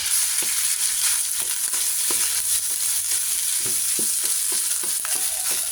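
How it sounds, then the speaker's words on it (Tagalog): Leftover rice being stir-fried in a pan, heard as a constant loud sizzle with a scrape and clatter every second or so as the spatula turns the rice, with no one speaking. "Magigisa naman tayo ng kanin lamig ngayon."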